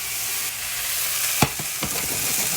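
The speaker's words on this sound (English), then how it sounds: "Most gnocchi recipes I see, they don't pan fry it like this." Gnocchi pan frying in hot oil, a continuous bright sizzle with a few sharp clacks of a utensil against the pan partway through, close and fairly loud with no talking.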